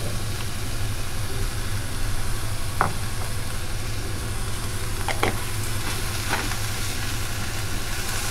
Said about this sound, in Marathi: आणि भाजी ढवळून घेणार आहे।